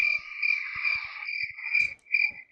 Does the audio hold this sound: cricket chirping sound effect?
yes